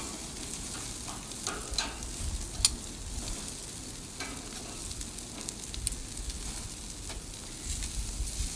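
Chicken and broccoli sizzling and charring on a grill, a steady close crackle and hiss with occasional sharper pops and tong clicks, no voices.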